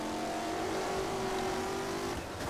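A race car engine in the rFactor racing game revs hard and steady, with pitch changes as gears shift, loud and continuous with no talk.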